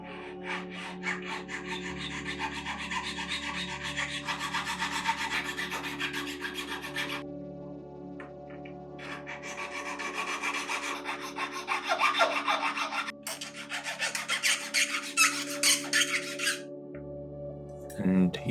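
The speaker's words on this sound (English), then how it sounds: "Now I have to start filing the frame itself." A silver pendant frame is hand-filed in repeated rasping strokes, close and steady, with a short pause partway through and a brief knock near the end.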